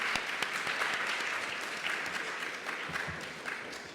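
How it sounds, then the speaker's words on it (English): A conference audience gives a steady round of applause for a presenter, many hands clapping evenly for several seconds and tapering slightly toward the end, with no talk over it. "Jason deserves a round of applause for putting this together"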